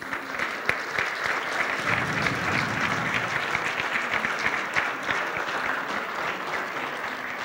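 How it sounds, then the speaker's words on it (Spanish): An audience claps at a signing ceremony in the Mexican Senate for a national agreement on a new plastics economy, sustained applause from a large crowd with a few sharper individual claps standing out. "Un aplauso para todas y todos ustedes."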